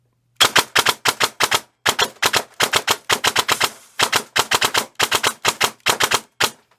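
E&L AK airsoft electric gun fired semi-auto as fast as the trigger can be pulled, a loud, close, rapid string of sharp cracks in an irregular rhythm with a few brief pauses.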